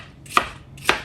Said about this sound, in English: slice it in little squares